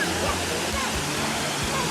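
Rushing roar of a waterfall in the rain in Coorg, its spray beating down in a dense, steady wash, with a voice speaking over the water.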